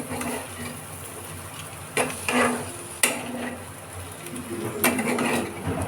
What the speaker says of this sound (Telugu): కొంచెం కలుపుకుందాం.